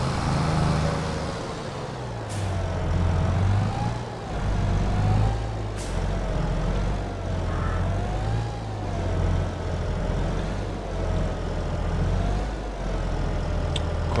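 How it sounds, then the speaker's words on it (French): A heavy farm vehicle engine in Farming Simulator 22 drones with a loud, steady low rumble and a wavering whine, punctuated by a couple of sharp hiss-like bursts, with no talking. "le bruit du moteur est assez élevé"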